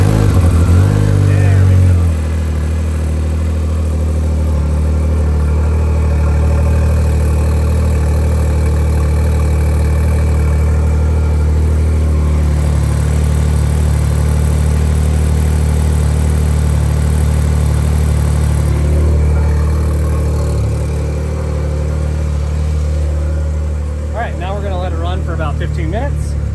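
Can-Am Maverick R side-by-side engine idling steadily at close range after an exhaust leak repair, a low continuous rumble throughout with brief revving near the start and a person talking over it.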